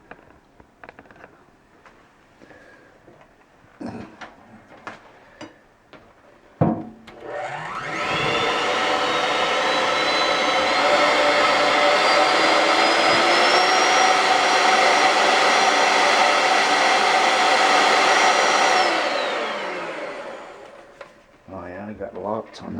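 Electric mixer beater bars spin in a kitchen sink, a loud high whirring that starts abruptly, holds steady for about twelve seconds, then winds down. Someone talks briefly and there is light clatter before and after.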